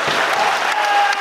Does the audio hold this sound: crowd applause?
yes